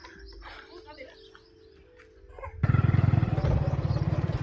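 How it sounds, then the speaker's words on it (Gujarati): Voices talk quietly over an outdoor background, then a motorcycle heading out to a farm field with fertilizer for the millet crop starts up close by and runs with a loud, pulsing engine rumble. "પપ્પા બે બાઇક લઈને હેડે છે ખેતરમાં"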